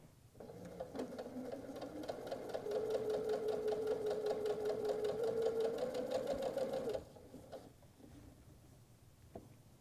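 Sewing machine stitching quilted nine patch apron fabric, a loud, steady mechanical whir with a rapid needle rhythm that runs for about six seconds, then stops, leaving quieter handling noise.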